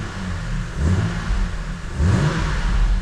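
A running BMW N52 six-cylinder engine revved twice, each rise a throaty swell over a steady, close mechanical drone.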